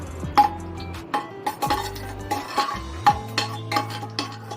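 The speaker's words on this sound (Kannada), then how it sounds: "ಈ ಥರ ಹಾಕ್ಕೊಂಡ್ಬಿಟ್ಟು ಸ್ವಲ್ಪ ಫ್ರೈ ಮಾಡ್ಕೊಳ್ಳೋಣ" Spices fry in a pan while a utensil stirs, knocking and clinking against the metal in irregular, distinct taps close by.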